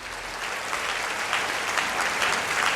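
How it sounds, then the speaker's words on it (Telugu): A crowd at the Gunadala Matha festival applauds in sustained, dense clapping that stays loud and steady throughout. "గుణదల మాతకి గట్టిగా చప్పట్లు కొట్టి వందలు తెలపండి అందరు."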